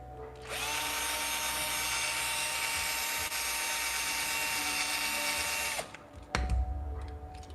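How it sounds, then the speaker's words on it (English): A power drill bores steadily for about five seconds while working on an 83 Chevy Silverado, loud and close with a constant whine, then stops abruptly before a few clunks of handling follow. "I need a little bit more drilling here."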